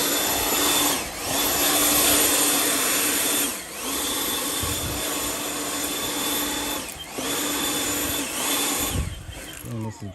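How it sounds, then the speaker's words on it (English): Battery-powered handheld leaf blower rated at 850 CFM running steadily near the microphone with a sustained airy whine, dipping briefly a few times as it is moved or throttled. "Tons of power for a handheld blower."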